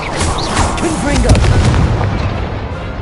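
Explosion spell blasts in a Harry Potter video game duel, a loud booming burst with a dense rumbling low end sustained for about three seconds, with game voices and effects mixed in.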